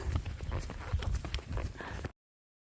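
Horses' hooves clip-clop in a steady, close walking rhythm on a ride to a school, with a faint voice at times, until the sound cuts off abruptly.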